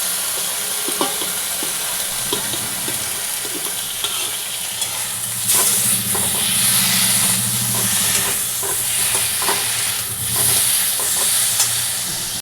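A vegetarian potato and cauliflower curry fries loudly in a pan after spices go in, with a strong steady sizzle and hiss broken by frequent close stirring scrapes and clanks.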